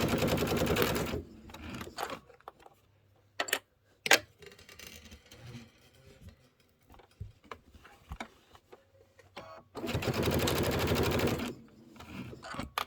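A sewing machine stitches a quilted Kimberbell Sweet Land of Liberty pillow at a 2.5 stitch length in two loud, steady bursts at the start and end, with quieter clicks and handling noises between them.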